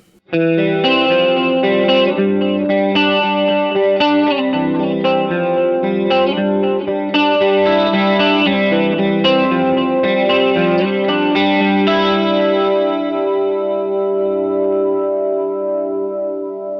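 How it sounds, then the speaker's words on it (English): Electric guitar played through a Seraph pedal with delay and reverb, sustained chords and picked notes ringing with chorus-like shimmer and echoing tails, loud and steady before slowly decaying near the end. "And here's the Seraph with some delay and reverb."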